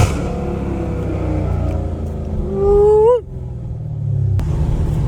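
A Dodge Hellcat Redeye's engine rumbles low and loud, then revs up sharply into a rising, whining pitch that peaks and cuts off abruptly before settling back into a deep idle rumble.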